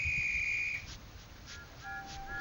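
Thomas the Tank Engine's steam whistle gives one steady high toot near a little cottage, followed by fainter thin whistle tones fading in the distance, with no voices.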